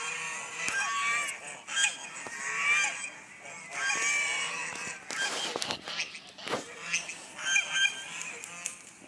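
A flock of geese honks loudly and repeatedly at close range in a village setting in Iraq, the calls overlapping in bursts with brief lulls between them.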